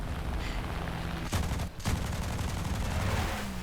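Bursts of 15mm MG151 cannon fire from a Bf-109 F-2 in an air battle in War Thunder, loud and continuous with a short break in the middle.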